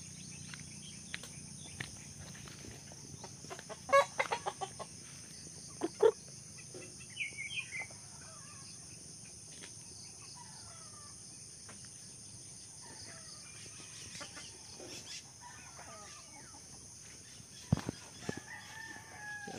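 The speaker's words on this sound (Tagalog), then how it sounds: "Akong mga manok." Pet chickens kept at a rural home: a rooster crows out in the open, with scattered clucks and calls against a constant background of insects and crickets, moderately distant and unaccompanied by talk.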